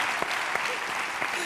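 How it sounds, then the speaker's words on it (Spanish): An audience claps at a live comedy monologue show, a dense, steady wash of many hands with a few sharper claps standing out, filling the whole moment without a break. "Quiero pedir antes de res un fuerte aplauso"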